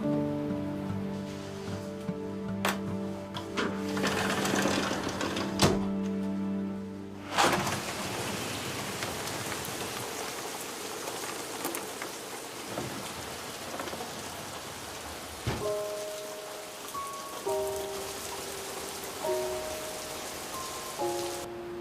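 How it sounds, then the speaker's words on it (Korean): Steady rain falls at night outside a hotel window, a constant soft hiss of drops on surfaces with a low rumble, while faint background music plays underneath. "지금 비 오는 거 모르죠? 비 내리는 야경 좀 보고 자라고."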